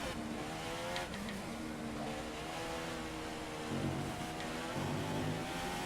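Formula 1 race car engine in the F1 2015 racing game, a steady high-pitched whine that rises and falls with gear changes as the car is driven around the track, continuous and fairly faint.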